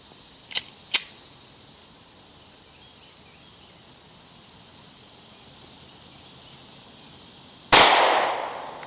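A single .45 ACP pistol shot firing a Hornady 230 grain Critical Duty hollow point, one loud sharp crack near the end with a ringing decay, preceded by two faint mechanical clicks over quiet background.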